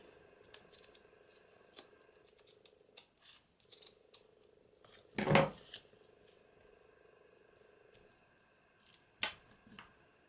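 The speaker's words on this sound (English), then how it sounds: "So let me just trim that up." Scissors snip and trim paper while crafting a Christmas journal pocket embellishment, a few quiet cuts spread out with one louder, fuller snip near the middle and another toward the end.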